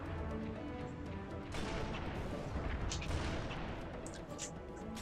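A rocket launcher fires in Halo 3 amid heavy combat, a loud booming launch around the middle followed by crackling blasts and gunfire bursts, with someone talking over the battle.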